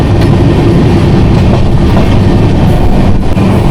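Train running on rails through open countryside on a Pune to Kanyakumari rail journey, a loud steady rumble of the carriage with continuous wheel noise and faint clickety-clack throughout, no voices.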